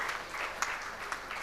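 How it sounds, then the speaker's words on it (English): Faint, distant applause from a gathered audience at a conference inauguration, a thin, even patter of clapping with a few sharper individual claps. "request the gathering for a huge round of applause"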